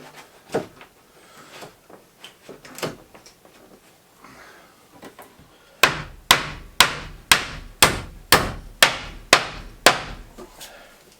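Hammer blows drive a furring strip against insulation to hold it in place: a steady series of about a dozen sharp, close strikes in even rhythm, preceded by quieter scattered knocks and handling.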